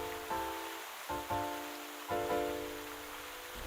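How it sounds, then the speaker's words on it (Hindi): Heavy rain falls in an animated Hindi children's story, a steady, dense hiss running beneath short, repeated musical chimes. "एक दिन बहुत तेज बारिश हो रही थी"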